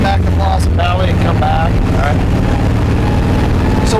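A 1969 Pontiac Firebird drives around the block, its engine rumbling low and steady throughout under heavy wind and road noise, with people talking over it inside the car.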